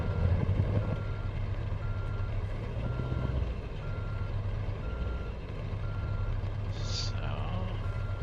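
Truck reversing alarm in Euro Truck Simulator 2, a regular series of evenly spaced beeps over a low idling engine hum, moderately quiet and steady throughout.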